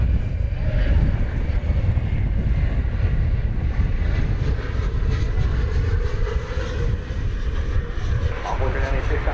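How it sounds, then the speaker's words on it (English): A Boeing 737 MAX 9 takes off at DFW Airport with a broad, sustained jet-engine roar that stays loud and steady throughout, with a voice talking over it. "It's a MAX 9 is this one. I believe it has received a clearance for takeoff."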